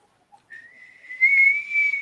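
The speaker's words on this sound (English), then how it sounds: "then I'll whistle for you" A person whistles one sustained tone alone at close range. It starts softly, grows louder and rises slightly in pitch as it holds for about a second and a half.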